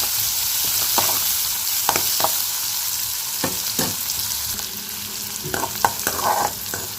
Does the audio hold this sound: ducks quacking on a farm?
no